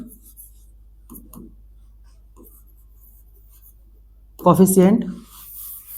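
A teacher in a maths class writes on a board with short, scratchy strokes in a few separate bursts, and then a voice speaks briefly.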